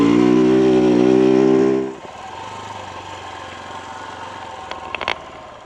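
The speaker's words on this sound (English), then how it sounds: "Just riding a dirt bike on the beach in Hawaii during sunset." KTM 690 Enduro R dirt bike ridden on a Hawaiian beach at sunset: a loud, steady, tonal engine drone for about two seconds, then dropping to a lower, rougher hum with a few brief clicks near the end.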